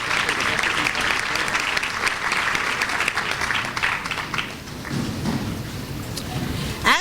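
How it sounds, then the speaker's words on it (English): Audience applauding a festival orchestra at a teachers' awards ceremony: sustained, dense clapping from a large crowd, fairly close and even throughout, with slight swells near the end. "can we have one more round of applause for the Festival Orchestra?"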